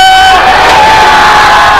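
Worshippers at a Christian revival crusade raise a loud collective shout of praise. The dense crowd roar stays continuous and full for the whole two seconds.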